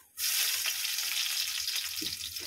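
Ginger and garlic sizzle loudly in hot oil in a pan, starting abruptly and holding a steady hiss throughout with a brief low clatter near the end; no one speaks.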